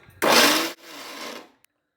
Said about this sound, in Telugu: ఇప్పుడు గ్రైండ్ చేద్దాం.